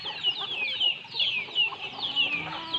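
Several chickens, hens on a farm feeding near unharvested rice, cluck and chirp in quick repeated calls, close by and moderately loud, with no talking.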